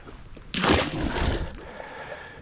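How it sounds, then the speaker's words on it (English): A caught fish slipped back into a lake from a boat during jug line fishing makes a sudden close splash and slosh of water, followed by a brief gurgle. "let's just slip him back in the water."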